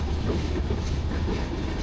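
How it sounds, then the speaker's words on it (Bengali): Madhumati Express train pulling away from Padma rail station, heavy steady rumble of wheels on track with a dense low roar and faint clatter, close and continuous with no voices. "পদ্মা রেল স্টেশন থেকে এখন ট্রেন আবার সামনের দিকে যাইতেছে।"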